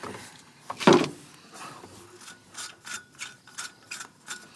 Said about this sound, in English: take your wrench and go ahead and tighten the bottom nut while keeping the top one still loose